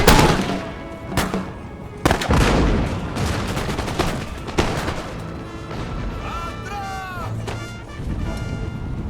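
Musket volleys from line infantry in the Empire: Total War video game crack out as several loud, overlapping gunfire bursts and booms, with shouted voices and a sustained rumbling din.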